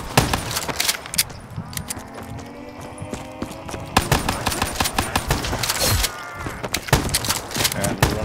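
Shotguns firing in a Mario-themed zombies video game, with repeated sharp blasts scattered over background game sounds and music, some close together in bursts.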